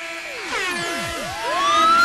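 Siren sound effects: repeated falling, whistle-like swoops overlap in quick succession, then a rising tone climbs loudly toward the end.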